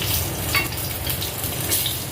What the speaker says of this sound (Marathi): बाकीच्या सर्व मिरची मी शॅलो फ्राय करून घेते.